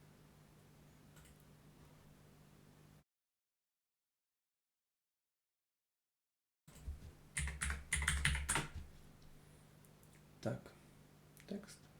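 Keys clatter on a computer keyboard in a quick burst of close typing, with scattered lighter taps before and after a short dead-silent gap.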